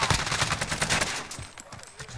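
Rapid bursts of automatic gunfire ring out in the Warzone video game, dense and loud for about two seconds before thinning out. No speech is heard.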